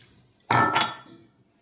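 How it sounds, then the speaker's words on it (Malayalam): A short burst of water pouring into a bowl of crepe batter, lasting about half a second, with a bit of dish clatter, close and fairly loud. "കുറച്ച് വെള്ളം ഒഴിച്ചെടുക്കാം."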